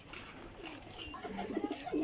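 Freshly caught pigeons coo softly nearby, a few low murmuring calls rising toward the end of a short, quiet stretch.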